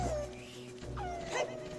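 Wolf-like Wolfos enemy growls and yelps from the Zelda: Ocarina of Time video game, with dog-like whimpering and yipping tones over steady game background music.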